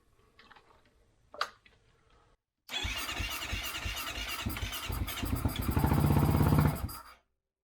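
A 2008 Kawasaki KFX450R ATV engine fires after a faint click and a brief squeak, then runs loud and close with a choppy single-cylinder idle, revs higher for a few seconds and cuts off abruptly.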